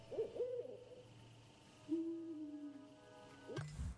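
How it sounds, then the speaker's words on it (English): Owl hooting in the video game Endling: Extinction is Forever: two soft, drawn-out hoots separated by a pause, faint against quiet ambient forest sound, followed by a brief low thump at the end. "the sound of the owl is directional"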